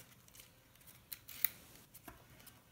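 Quiet, scattered snips and crisp cuts as mustard greens are sliced sideways, a few sharp ticks standing out among soft rustles, close by with no talking.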